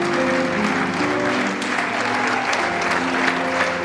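A standing audience breaks into loud, sustained applause, a dense, even roar of clapping that holds steady throughout, with a few voices faintly mixed in.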